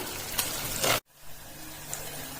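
Sliced onions sizzle in hot oil for a chicken vindaloo, a steady close frying hiss that cuts off abruptly about halfway, leaving a quieter, fainter sizzle.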